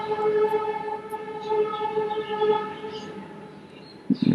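A passing train sounds a sustained, multi-tone horn that holds steady, then fades. A low rumble of rolling cars sits beneath it, and a sharp clatter comes at the end.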